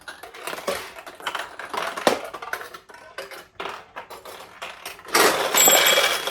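Steel balls launch and clatter down through a restored 1976 Nishijin Model B vintage pachinko machine, a dense, busy rattle of pinging and tumbling that swells into a louder burst near the end.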